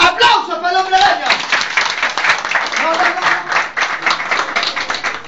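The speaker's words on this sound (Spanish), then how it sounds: "¡Aplausos para el hombre araña!" A crowd at a baby shower claps loudly and steadily for a Spider-Man performer, dense applause running the whole time, with voices calling out over it.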